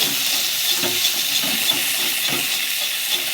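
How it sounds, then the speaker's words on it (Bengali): A wok of banana-flower chop mixture with turmeric, oil and potato is stirred and fried, giving a steady close sizzle with a spatula scraping the pan in rhythmic strokes throughout. "আমি অল্প একটু তেল দিলাম, তেল দিয়ে আর একটু নাড়বো ভালো করে, যতক্ষণ না ভাজা ভাজা হয়।"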